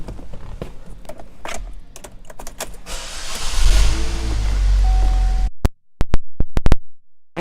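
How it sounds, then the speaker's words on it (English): A power moonroof on a 2017 Chevrolet Traverse whirs open with a steady electric motor hum that builds and then stops, followed by a few sharp clicks and thumps. "Power moonroof."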